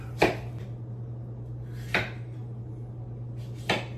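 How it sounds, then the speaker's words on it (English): Three sharp knife chops on a cutting board, spaced well apart, ring out over a steady low hum. "Sorry for the background chopping."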